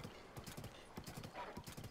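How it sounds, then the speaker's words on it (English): Hooves clip-clop in a quick, regular galloping rhythm from a horse in the video game Zelda: Tears of the Kingdom, with a brief whinny audible. The beats repeat steadily across the short stretch at moderate volume. "Horse!"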